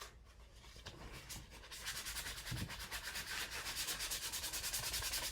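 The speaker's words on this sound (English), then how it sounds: "So I'm just gonna run the sandpaper over this" Hand sandpaper is rubbed back and forth over a small handmade journal part, quiet and close, starting gently and then settling into rapid, regular scratchy strokes.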